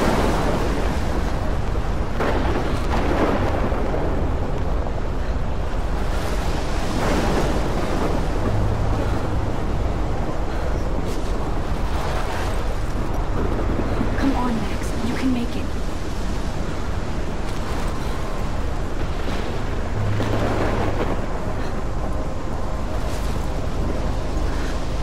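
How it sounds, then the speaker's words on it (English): Thunderstorm in the Life Is Strange video game, a loud continuous roar of wind and rain with surging rumbles throughout, while someone talks over it. "That is an insane storm."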